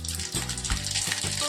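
Half a spoon of mustard seeds hits about three ladles of hot oil for a dal tempering, giving a steady close crackling sizzle with spitting pops, alone throughout.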